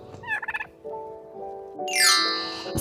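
A turkey gobbles in a quick rattling burst, followed by other bird calls and a sharp high squawk, close and fairly loud.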